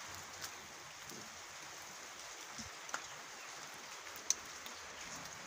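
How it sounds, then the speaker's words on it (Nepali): Soft, constant rain patters outside in a low, wide hiss, broken by a few scattered drips and one sharper tap near the end. "यो पानी पर्दैछ"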